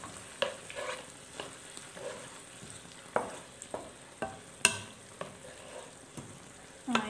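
Beef teriyaki seasoned with sweet soy sauce is stirred in a frying pan: a spatula scrapes and clacks against the metal in irregular close strokes over a soft, steady sizzle, with no talking.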